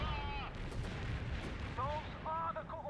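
Artillery fire in World in Conflict, muffled low booms and rumbling blasts under a dense battle bed, fairly quiet, with short voice-like radio chatter sounds from the game mixed in.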